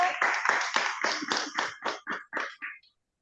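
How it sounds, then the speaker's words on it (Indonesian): A church congregation at a midday worship service claps after a testimony, about a dozen distinct claps in a loose rhythm that slow and fade to silence within three seconds, fairly close and with no talk over them. "Tepuk tangan dong buat dia aja."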